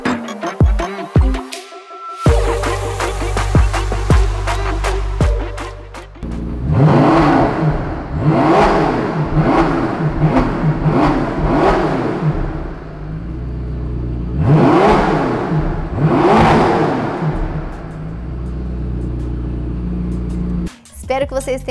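A 2022 McLaren GT V8 engine revs repeatedly, with several loud, close bursts that climb and fall in pitch between a steady idle, ending with a short final blip.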